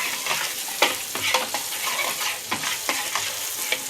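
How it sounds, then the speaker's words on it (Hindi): Butter being stirred into hot caramel in a pan for caramel bread pudding, with a steady soft sizzle and repeated scraping strokes of a spoon against the pan, close and moderately loud, no voices. "अभी बटर डाल के पूरा मिक्स करेंगे"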